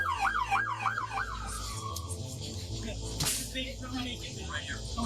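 Police and ambulance sirens wail in quick repeated sweeps, then settle into a steadier tone, heard over a busy street scene with voices talking throughout.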